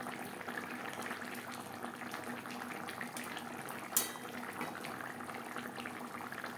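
Vegetarian papaya curry gravy with green chillies bubbles in a pan, giving a soft, steady simmering hiss with small pops and one brief sharper splash, faint and close.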